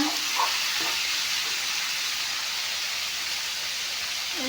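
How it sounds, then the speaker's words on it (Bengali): Mutton pieces sizzle and fry steadily in a pan for a curry, a continuous close hiss with no talking. "মাংসখিনি অলপমান ভাজি লৈছোঁ এতিয়া"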